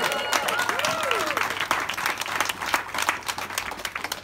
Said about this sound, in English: so a big applause to all of you